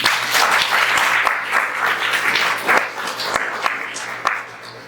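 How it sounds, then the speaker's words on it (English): An anti-racism forum audience gives a round of applause, a full, close crowd of hands clapping steadily with a few sharper claps standing out, fading slightly toward the end. "A round of applause, please."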